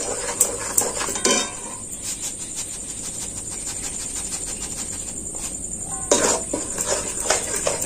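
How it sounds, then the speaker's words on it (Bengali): Rice flour gets stirred into boiling sugar syrup in a pot, with a metal spoon scraping and clinking against the pot in bursts over a steady high hiss, nearby and fairly loud. "এটা আমি খুব নেড়ে চেড়ে ভালো করে নেড়ে চেড়ে নেব, যাতে এর মধ্যে না দোলা না বেঁধে যায়"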